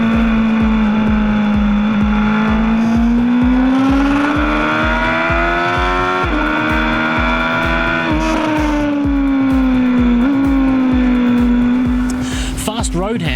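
A BMW S1000XR motorcycle's 160-horsepower engine revs hard and loud through repeated gear shifts, its pitch rising and dropping in steady pulses as it accelerates, up close and continuous with no talk.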